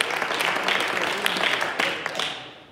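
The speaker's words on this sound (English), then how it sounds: "Clap your hands and give God praise." A church congregation at a Wednesday Bible class claps their hands in praise, a dense continuous applause that fades near the end, with a few voices mixed in.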